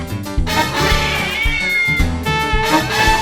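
A sweet adult male cat at a farm shelter meowing, several drawn-out, wavering cries in quick succession, close and fairly loud with no talk over them.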